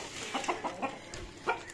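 Chickens and a rooster cluck close by on a farm, a string of short, clipped clucks in an uneven rhythm over a soft outdoor background, with no talking.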